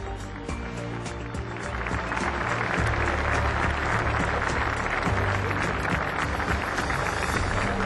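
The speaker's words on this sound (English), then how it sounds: "I want to see and hear another round of applause" A large audience at the world premiere of the new BMW 3 Series applauds for five historic 3 Series BMWs, with loud, dense, sustained clapping that swells and holds steady throughout.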